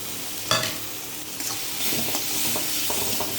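Mustard paste frying in a pan for an Assamese-style small tingora fish curry, giving a steady close sizzle broken by scraping stirs and a few sharp clinks of a utensil against the pan.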